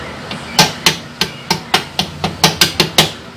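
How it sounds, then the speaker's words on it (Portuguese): A hammer strikes a metal part of a washing machine agitator assembly, a series of about a dozen sharp, loud, close metallic knocks in an uneven but steady rhythm, each ringing briefly before the next blow. "se você não tem a ferramenta para trocar, pegue o martelo, vai batendo aqui"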